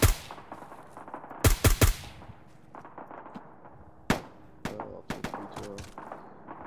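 Suppressing gunfire in Arma 3 comes in sharp, close bursts. Rapid clusters of shots crack out, then scattered single and double rounds follow over a low background rumble.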